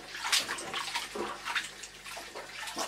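A vintage Hoover cloth vacuum bag being washed by hand in water, with soft sloshing and splashing in irregular bursts, faint and close, no talking.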